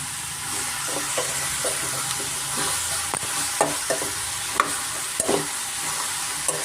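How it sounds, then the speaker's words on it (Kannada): Vegetables for a vegetable gojju curry fry in hot oil with a steady broadband sizzle, while a spoon stirs and scrapes the pan in irregular clanks and clicks throughout, close and alone without talk. "ತರಕಾರಿ ಎಲ್ಲ ಚೆನ್ನಾಗಿ ಎಣ್ಣೆಯಲ್ಲಿ ಚೆನ್ನಾಗಿ ಫ್ರೈ ಆಗಿದೆ"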